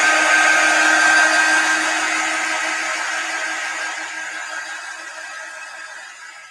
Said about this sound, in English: So I'm just going to grab my dryer.